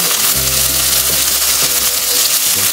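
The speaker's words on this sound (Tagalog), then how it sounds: "Piniprito ko muna lalo na yung karne para mawala yung lansa." Chicken pieces fry in a hot pan for a home-style chicken with tomato and ginger dish, a steady loud sizzle with faint stirring knocks throughout and no talk.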